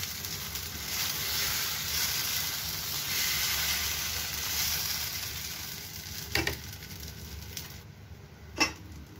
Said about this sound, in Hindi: अब हम इसमें लेंगे बैटर। बहुत ही हल्के हाथों से हम फैलाएंगे।